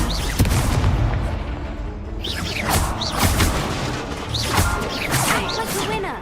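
Fiery Incendio spell effect from a wizarding video game, with bursts and crackling whooshes repeating over dense game noise and some voice.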